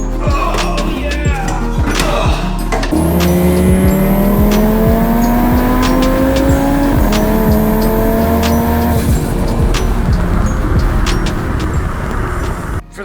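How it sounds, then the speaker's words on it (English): A sheriff's car passes close by, its engine tone rising then sliding down over roughly ten seconds, with steady loud road and engine noise from inside another car throughout. "We're getting passed by the sheriff."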